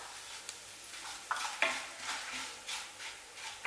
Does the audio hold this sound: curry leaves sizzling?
yes